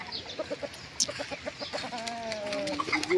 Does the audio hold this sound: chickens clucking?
yes